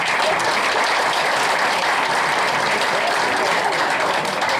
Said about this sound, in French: Et on applaudit ces hommes-là.